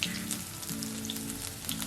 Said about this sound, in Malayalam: കടുക് പൊട്ടിക്കഴിയുമ്പോൾ അതിലേക്ക് 10 വെളുത്തുള്ളിയുടെ അല്ലി ചോപ്പ് ചെയ്തതും